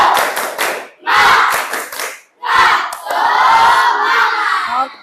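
A class of children belts out a rhythmic spirit clap chant, loud bursts of shouting mixed with quick claps in several phrases separated by short pauses, ending in a long sustained cheer.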